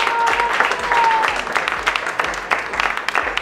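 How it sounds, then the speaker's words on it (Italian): A small group gives a short burst of applause for a man showing off a fresh tattoo, brisk clapping with a low rumble beneath and some talk mixed in. "Zio, un applauso, ragazzi."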